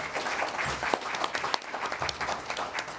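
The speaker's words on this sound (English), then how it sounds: "Please give him a round of applause." Audience applause at a 2024 Portland mayoral debate, steady dense clapping from a crowd filling the hall with some louder individual claps standing out.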